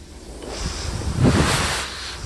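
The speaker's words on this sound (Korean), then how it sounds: "스네이크 펑크 같은 경우에는 빵꾸가 두 개가 났으니까 소리가 나요." Air hisses out of a punctured bicycle inner tube with a snake-bite flat, a close, steady breathy rush that swells midway and then eases.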